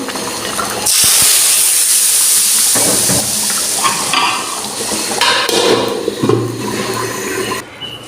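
Spice tempering for a duck curry sizzles and fries loudly in a pan, with a sharp hiss bursting in near the start, then a steady crackle with stirring clatter under it.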